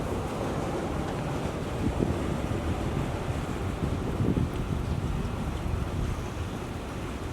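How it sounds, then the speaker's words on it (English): Steady rain falling outdoors, a dense even hiss of drops mixed with gusty wind noise buffeting the microphone, with no voices. "It's actually raining out here"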